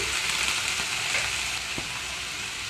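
Chopped tomatoes frying in hot oil for a tomato sesame chutney, giving a steady close sizzle with a faint stir or scrape partway through and no talking.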